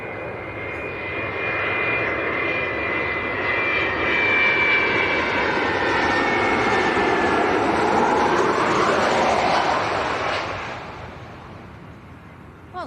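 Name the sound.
old 300 series jet aircraft on the Izmir flight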